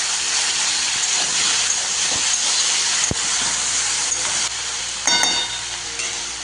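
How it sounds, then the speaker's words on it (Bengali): Cauliflower, broccoli and potatoes sauté in hot oil, giving a steady sizzling hiss throughout with occasional stirring clatters, close and fairly loud. "এবার এই তেলটাতেই আমি ফুলকপি আলুগুলোকে, এই ব্রকলি আর আলুগুলোকে কষে নেব।"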